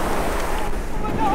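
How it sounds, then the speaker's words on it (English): Ocean waves breaking on a San Diego beach, a broad, continuous rushing surf that is loud and near, mixed with gusty wind buffeting the microphone. "Look at those waves, man."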